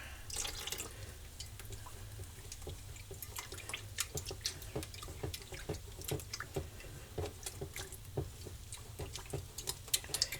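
Half a can of water pours into a pot of pork chops in mushroom gravy: faint, close splashing and trickling with scattered drips, steady and quiet with no talking.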